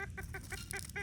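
A chicken, the oldest living hen, clucks in a quick run of about six short, evenly spaced clucks, close and clear over a low background rumble.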